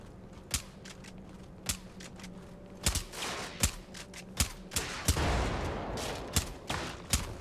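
Hand rifle gunfire from the video game Brigador Killers, a string of sharp single shots at irregular intervals over a steady low engine-like hum, with a denser crackling burst midway.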